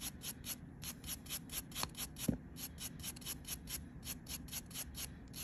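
Carbide nail drill bit being sharpened by hand, a quiet, rhythmic rubbing and rasping repeated in steady strokes, close and faint, with no talk.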